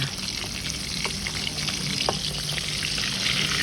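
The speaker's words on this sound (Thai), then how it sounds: "เสร็จแล้วก็ทอดปลาทูต่อ ให้ปลาทูสุกทั่วกันทั้งสองด้านจ้า" Mackerel frying in a pan makes a continuous close crackling sizzle with scattered pops and spatters, steady and fairly loud throughout.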